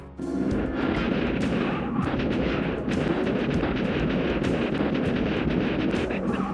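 A rapid barrage of explosions in a kaiju TV show scene, smoke engulfing a car, booms one after another over a constant roaring rumble, loud and close, with no talking.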